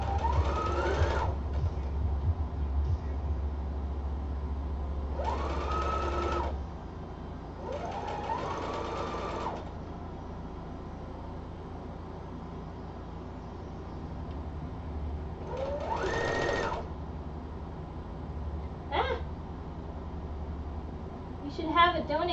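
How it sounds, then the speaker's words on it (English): A sewing machine runs a steady low hum over a skirt with pins still in the fabric, stitching for several seconds at the start; talking follows and carries through the rest. "Yes, I'm sewing over pins."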